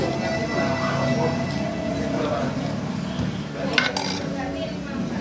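A spoon stirs rujak cingur in a dish, producing light clinks and scraping of utensil against the plate, close by beneath a voice talking.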